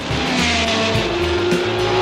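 A loud Porsche 917 race car engine roars with rising gear-change whines and brief tire squeals, close and continuous, with no voices.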